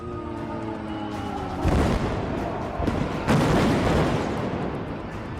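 Heavy booming blasts from bombing at an oil refinery in Tehran roll through a dense rumbling din, with a couple of louder bursts standing out midway, close and powerful.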